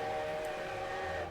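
A train whistle sounds as a steady, sustained tone, fairly loud and continuous throughout, with no talking over it.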